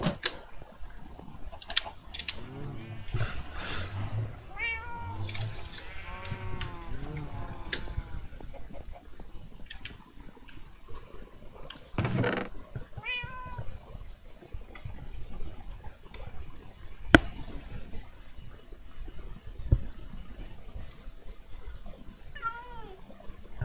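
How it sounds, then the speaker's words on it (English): A cat in the Minecraft video game meows repeatedly in short, clear bursts, spread across the scene among soft clicks and faint game noise, with a person speaking briefly. "Meow. Hello, cat."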